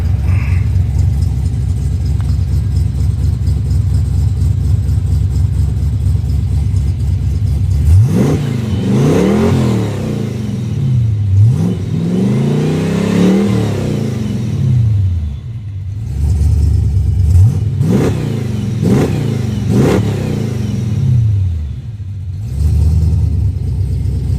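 A boosted Ford Mustang engine on the road to a Mustangs at Daytona event, steady low rumble that breaks into several loud revving pulls, rising and falling sweeps with short pauses, close and dominant.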